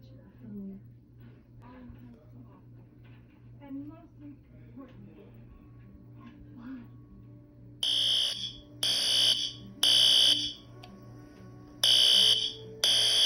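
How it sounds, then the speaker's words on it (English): A fire alarm, set off by pulling it, rings indoors in loud, piercing bursts that stop and start again. Quiet talk and room noise come first, before the alarm starts. "Uh-oh. The fire alarm has went off."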